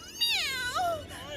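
A cartoon cat meows in a long, pitch-sliding, whiny call, with a second shorter meow following close, loud and clear with no talk over it.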